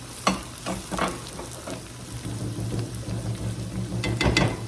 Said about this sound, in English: Got about 3 cloves of minced garlic we're going to add in here.